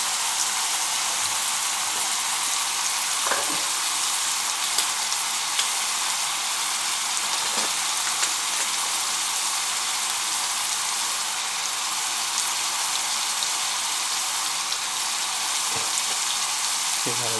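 Ridge gourd curry frying in a pan with turmeric being stirred in, a loud, dense, unbroken sizzle like steady rain, with a few faint knocks of the spoon against the pan.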